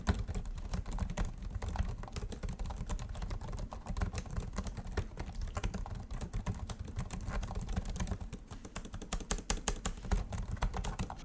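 Steady, soft typing on an Asus M409DA laptop keyboard, rapid keystrokes clicking continuously at close range with no talking.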